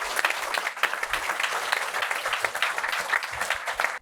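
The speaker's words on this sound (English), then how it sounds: "Please give another big round of applause for this amazing book." An audience at a legal book release event gives a full round of applause, dense continuous clapping from a crowd that stays loud throughout and cuts off abruptly at the end.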